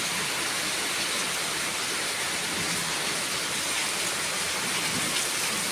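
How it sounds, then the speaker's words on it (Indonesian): Heavy rain pours steadily during a house flood, a dense, continuous wash of drops that stays loud and even throughout with no voices. "Hujan guys."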